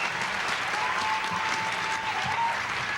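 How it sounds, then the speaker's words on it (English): An audience at a 1990 speech breaks into dense, sustained applause, many hands clapping together in an even wash with a faint murmur of voices underneath. "a lot of applause"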